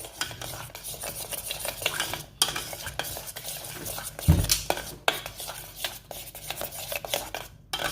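Orange Tang pudding is stirred nonstop in a pan as it thickens toward a jelly, with a spoon scraping and clinking against metal in a quick, steady rhythm, close and fairly quiet.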